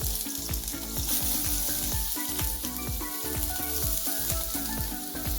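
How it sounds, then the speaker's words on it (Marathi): Sliced onion frying in a spoonful of hot oil on a gas stove for a spicy village-style misal, giving a steady, loud sizzle with occasional stirring clatter throughout. "त्यात चमचाभर तेल घालून घेते आणि हा मी उभा कापून घेतलेला कांदा घालून घेते यात."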